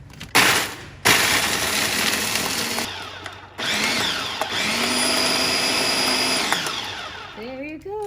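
A Ninja blender whirs loudly while blending a dragon fruit shake, starting in short bursts, then running in a long steady roar whose pitch shifts as it works through the fruit before winding down.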